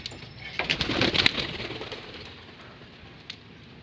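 Pigeons cooing close by in a morning loft, soft repeated coos with a brief flutter, fading to quiet near the end.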